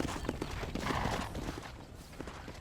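Horse hooves clip-clop steadily through the Red Dead Redemption game world, a continuous rhythmic trot sitting up close over low background rumble, with no voices over it.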